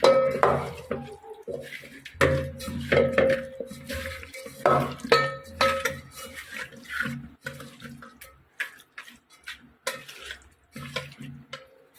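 A spoon clinks and scrapes against a bowl as a yogurt mixture is stirred for a chicken dish, in irregular bursts of stirring separated by short pauses.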